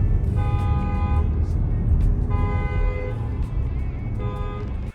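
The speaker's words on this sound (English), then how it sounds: "The tunnel makes it sound even better because this is the sweetest hooter I have ever heard." A 2024 Lexus RX 350 F Sport sounds its horn inside a tunnel: three short honks, each echoing off the walls over the steady roar of road and engine noise.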